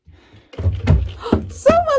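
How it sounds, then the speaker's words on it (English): A few dull knocks thud against a door during Halloween trick-or-treating, two or three close, heavy raps followed by a rising voice-like sound and background chatter. "Someone's knocking on my door."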